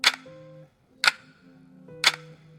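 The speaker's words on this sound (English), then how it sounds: "because the clock is ticking" A clock ticking, three sharp clicks about one second apart, each trailed by a low tonal ring, close and clear with no one speaking.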